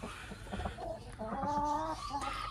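Polish Brahma chickens cluck and chatter in a farm pen, with several overlapping calls close by over a steady background of rustling and noise.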